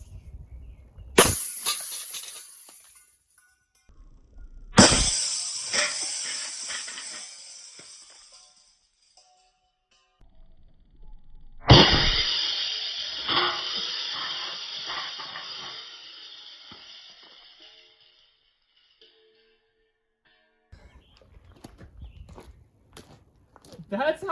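Three sharp metallic bangs as a compressed motor spring bursts from a clamp during a motor teardown and shears a bolt, each followed by a long ringing, fading hiss with quiet gaps between them.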